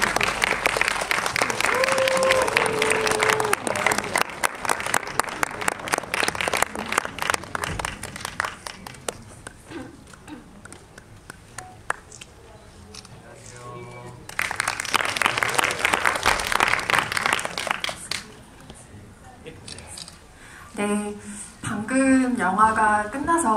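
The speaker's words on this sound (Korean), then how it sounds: "큰 박수로 환영해주시기 바랍니다." Applause from a film screening audience welcomes a director and actors to the stage. It comes in two strong bursts separated by a quieter lull, and a host's amplified voice is heard between and after them.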